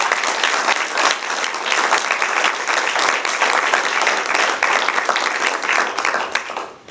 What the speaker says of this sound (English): So one more round of applause for our students.